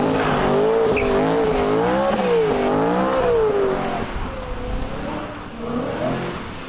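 A car spins donuts, its tires squealing loudly in long, wavering, sustained howls with engine noise beneath, then easing into shorter, fainter squeals toward the end.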